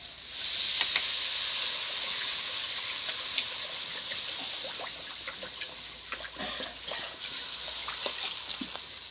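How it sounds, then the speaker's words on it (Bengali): Water poured into a hot pan of potatoes cooked with spices gives a close, steady hiss of sizzling steam with small crackles, sustained for several seconds without talk. "মশলার সঙ্গে আলুটাকে আমি ভালো করে কষিয়ে নিয়েছি, এবার জল দিয়ে দেবো।"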